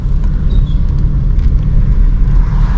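A car drives in third gear along a narrow road with a loud, steady low engine and road rumble, close and continuous, with faint higher whines above.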